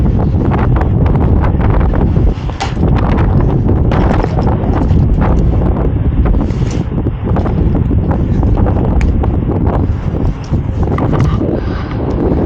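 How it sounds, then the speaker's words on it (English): Strong wind buffeting the microphone outdoors beside a rooftop HVAC unit, a continuous low rumbling roar with gusty surges throughout. "Crap, it's windy."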